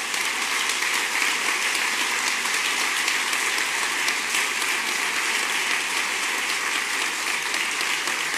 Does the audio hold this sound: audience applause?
yes